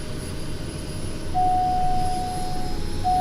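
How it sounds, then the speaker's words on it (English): Aircraft engine idling and rising slightly during a taxi in Microsoft Flight Simulator 2024 in Papua New Guinea, a steady broadband rumble with a thin high whine entering partway through, continuous with no talk. "Taxi to the runway and take off."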